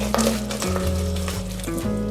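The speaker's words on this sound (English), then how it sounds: "Stir constantly to prevent the caramel from darkening or burning." Caramel boils in a pot while being stirred constantly, a dense close bubbling sizzle over a steady low mechanical hum whose pitch shifts a few times.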